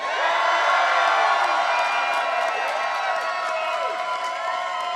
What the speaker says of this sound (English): let's give Kamala another round of applause.